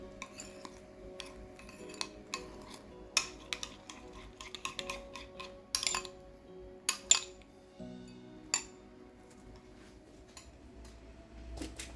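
Ground meat being mixed with balsamic sauce using a utensil in a bowl, sparse clinks and scraping taps of metal against the dish at a quiet, close range.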